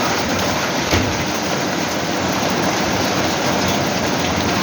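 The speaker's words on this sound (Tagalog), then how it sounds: "Tutulog na? Umulan na eh." Rain falls steadily in a dense, even hiss of drops with occasional louder taps, continuous and fairly loud throughout, with no voices.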